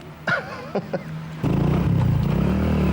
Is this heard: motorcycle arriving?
yes